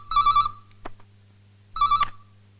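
An old-style telephone bell rings in two short, trilling bursts separated by a pause, loud and close, over a steady low hum in a comedy film scene, with no voices.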